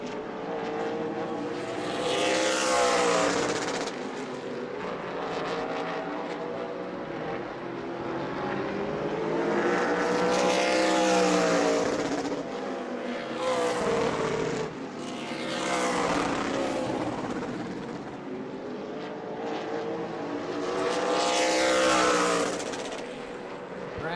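Race cars lap a short oval track at New Smyrna, engines rising and falling in loud repeated waves as the pack roars past close by every few seconds.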